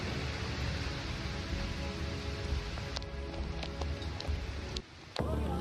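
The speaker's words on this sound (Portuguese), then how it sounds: "Nesta cena veremos como o vento forte impulsiona a chuva para criar estragos." Heavy rain driven by strong wind during a natural disaster, a dense steady hiss of downpour with scattered sharp drop impacts, briefly cutting out near the end before resuming.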